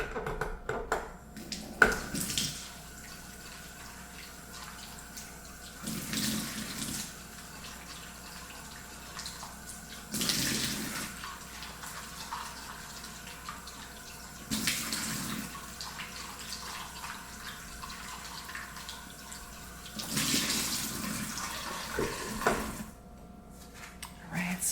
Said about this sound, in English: I pour the water, move it around with my fingers, and then I kind of hold them like this and dump out the water